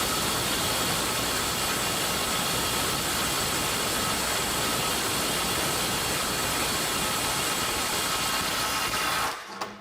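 Snap-On CT-9010 cordless impact wrench hammering continuously at speed 3 on a full battery, a loud, dense, steady rattling drone with no pauses for nearly ten seconds before cutting off abruptly.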